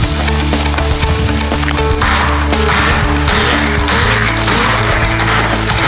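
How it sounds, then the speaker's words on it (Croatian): A handheld stick blender purees carrot and chickpeas, giving a loud, close, steady motor whine that shifts in pitch partway through as it works the mixture. "Sada ćemo ovo malo zblendati sa štapnim mikserom."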